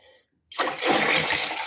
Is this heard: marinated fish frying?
no